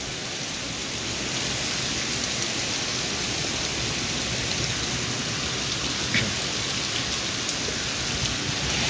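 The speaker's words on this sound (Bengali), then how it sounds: "বৃষ্টির ফোঁটা শা শা করে পড়তেছে" Heavy rain pouring during a sudden Kalbaishakhi nor'wester storm over a university campus in Sylhet, a dense, steady, rushing hiss with drops striking nearby surfaces and a brief tap partway through, no talk.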